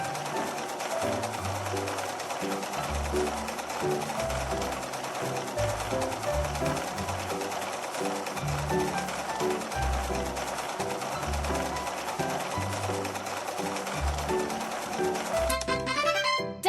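A sewing machine in a fashion doll dress-up video game runs with a rapid mechanical stitching patter over steady looping background music, ending with a brief bright chime.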